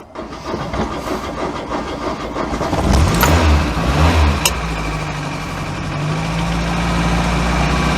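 The engine of an MK2 Scirocco runs close by, idling with a rough low rumble, revving up sharply around the middle and then settling into a steady, slightly rising drone.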